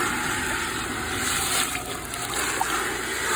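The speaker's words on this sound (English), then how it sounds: "I'll give this probably one more rinse." Water rinsing and sloshing inside an old, dirty glass aquarium tank being cleaned out, a steady close rushing and splashing wash that continues without a break, with no talk.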